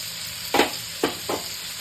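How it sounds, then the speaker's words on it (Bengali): Ground spice paste for achari eggplant frying gently on a low flame, with no onion, garlic or ginger; three brief soft scraping stirs rise over a faint steady hiss. "মশলাটা পিষিয়ে নিয়েছি, এবার দেবো এর মধ্যে। ধিমি আঁচে হবে, আচারি বেগুন করছি।"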